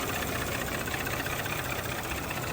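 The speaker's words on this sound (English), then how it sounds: "why this engine sound like that. It's a little bit louder than it usually idle." A 2019 Audi A6 S-line car engine idling louder than usual, a steady, close, continuous rumble and hum with even vibration and no talk over it.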